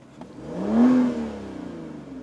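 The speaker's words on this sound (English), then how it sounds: "the V12 can drag you from motionless to 60 miles per hour" A 2017 Aston Martin DB11 with a twin-turbo V12 engine accelerates, its rising tone swelling to a loud peak before easing into a steady, smooth drone, with no voices.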